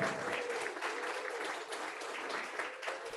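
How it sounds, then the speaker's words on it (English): A round of applause from an audience for the final four contestants of a competition, continuous dense clapping at moderate volume with no talking. "Could I just ask you to give a round of applause for the final 4?"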